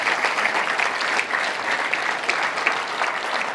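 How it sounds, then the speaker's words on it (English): Sustained applause from a luncheon audience at a touchdown club meeting, steady, dense clapping filling the room without any speech over it. "Let's give them all a round of applause if we can."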